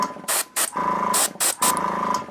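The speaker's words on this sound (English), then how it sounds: "We'll just spray the teal right over the wheel" An airbrush sprays teal paint onto a miniature wheel in short bursts of hissing air, several quick puffs with brief gaps between them, close and fairly loud.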